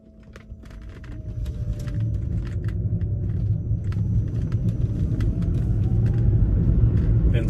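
A Volkswagen converted to electric drive, after ten years and 90,000 miles, rolls off on a test drive with a low, steady road rumble that builds smoothly and then holds, with no engine note.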